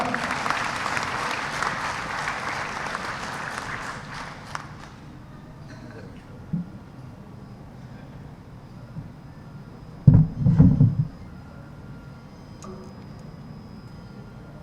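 Audience applause at a Labour Department event greets the Labour Secretary, a dense burst of clapping that fades out after a few seconds, followed by quiet room tone, scattered knocks and a brief loud thump.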